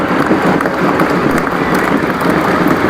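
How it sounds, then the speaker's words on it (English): A crowd at an annual sports meet applauds the torch bearers, a dense, steady wash of clapping that fills the whole stretch without pause. "A big round of applause to all the torch bearers."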